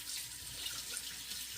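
Rice is washed under a running tap at home, with water flowing steadily into the vessel in a soft, continuous wash and no one talking.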